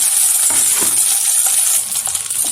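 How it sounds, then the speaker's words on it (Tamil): Rava masala idli frying in butter in a hot pan, giving a steady close-up sizzle with hissing crackles that eases slightly toward the end. "2 பக்கமும் நல்லா செவக்கிற அளவுக்கு திருப்பி போட்டு வேக வச்சுக்கலாம் பட்டர்ல."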